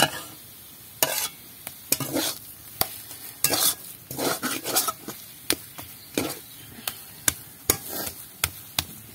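Vuchro greens fry in a pan under a steady sizzle while a spatula stirs and scrapes, giving sharp, close, rhythmic knocks against the metal throughout, with no talking.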